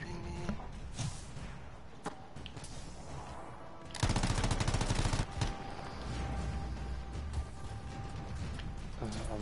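Gunfire in the Anthem video game demo: repeated rapid bursts and single shots mixed with mechanical clanks, growing loudest in a dense automatic burst midway.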